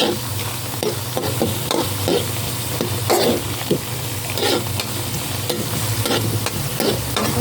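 Garlic fries in a pan where shrimp has been cooking, giving a loud, continuous sizzle with frequent scraping strokes of a spatula stirring close by.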